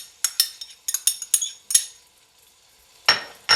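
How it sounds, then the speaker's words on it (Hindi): Onion, tomato and green chilli masala stirred in a pan of oil, heard as a quick run of close metallic clinks and scrapes of a spoon against the pan, a quiet pause, then another scraping stroke. "इनको थोड़ा सा मिक्स करेंगे।"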